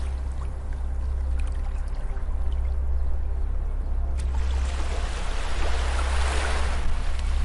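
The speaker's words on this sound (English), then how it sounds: "The sound of waves lulls my mind into a state of deep calmness." Gentle waves on a beach, a soft continuous wash of water that swells to a fuller surge toward the end, steady and calm with no voices.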